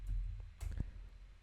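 A few soft mouse clicks, close and quiet, sit over a low steady room hum, with one sharper click standing out near the middle.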